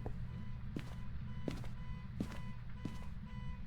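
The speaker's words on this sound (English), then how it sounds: "I hear an alarm going off." An alarm going off in a garage in the Phasmophobia video game, a repeating beep sounding about every three-quarters of a second over steady background noise, with no talking.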